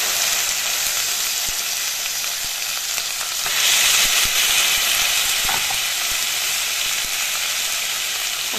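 Chicken pieces frying in oil in a pan for a chicken curry, a loud continuous crackling sizzle that swells briefly when stirred, with faint scrapes and no voices.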